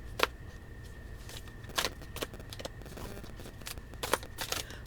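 A new deck of cards is being shuffled up close, with several crisp riffling bursts and card snaps spread irregularly over a quiet background, with no talk.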